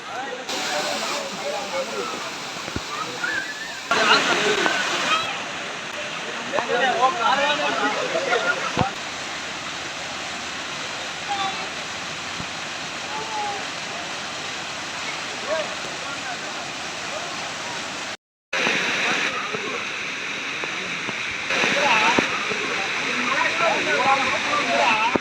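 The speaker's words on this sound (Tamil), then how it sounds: "அருவியிலேருந்து தண்ணி வெளியே ஓடிக்கிட்டு இருக்கு" Water pours from the Five Falls at Kuttralam, a loud, steady rushing roar that runs throughout with a momentary cut, while people talk intermittently over it.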